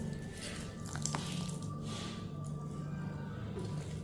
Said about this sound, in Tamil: இதை நல்லா தண்ணி புழிஞ்சு